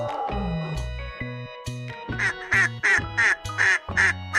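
A duck quacks in a rapid run of roughly eight loud, evenly spaced calls, preceded by a softer call, all set against a steady bouncing musical backing.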